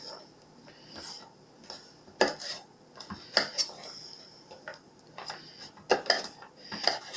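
Garlic scapes being cut into short pieces, giving sparse, close knife taps and clicks on a cutting board at an uneven pace, with faint handling noise between the chops.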